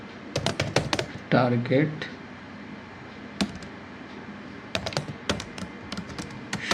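Typing on a computer keyboard in bursts of quick clicky keystrokes, close and fairly crisp, with a brief spoken word in the middle and scattered single taps afterward.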